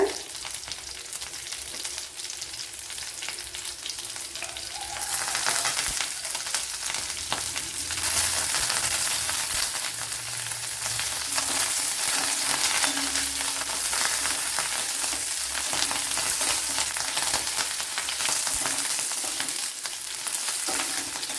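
Garlic and green chillies sizzling in hot oil in a pan for an eggplant curd curry, a loud continuous frying hiss that swells partway through and stays steady, with faint stirring scrapes and no talk.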